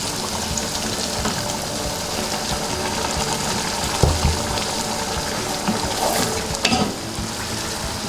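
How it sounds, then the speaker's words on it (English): Steady sizzling and bubbling from a hot pot of meat for akhni pulao, with a splash and clatter partway through as boiling water is added, no talking. "Let's add some boiling water to it."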